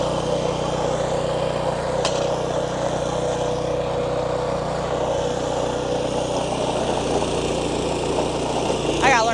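A tiller's small engine running steadily in a garden while being maneuvered back and forth, a continuous idling drone close by, with a voice talking over it.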